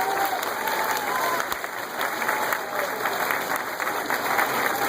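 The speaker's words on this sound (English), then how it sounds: "Let's give them a nice round of applause." A school audience claps steadily for a sixth grade class at a promotion ceremony, a dense, even round of applause with no talking.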